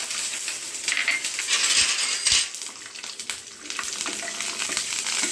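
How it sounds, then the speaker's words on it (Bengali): Groundnuts frying in about 1.5 tablespoons of white oil in a nonstick pan give a bright, crackling sizzle, with a couple of sharp clinks near the middle. "গ্রাউন্ডনাটটা ভেজে নেব।"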